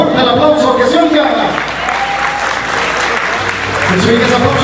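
Guests clapping at a quinceañera party, steady applause close by and loud throughout, with talking and music mixed in underneath.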